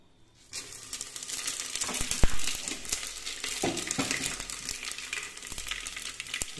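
Cumin, coriander and fennel seeds crackle and sizzle steadily in hot oil, close and fairly loud, with scattered sharp pops through the hiss after a quiet start.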